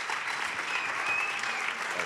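Steady, dense applause from a film festival audience greeting a guest at an on-stage talk, filling the room evenly and loudly throughout with no voices over it.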